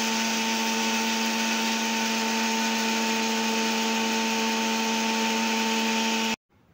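An electric mixer grinder pulverises rice into flour with a loud, steady, whining motor drone that runs unbroken and then cuts off abruptly.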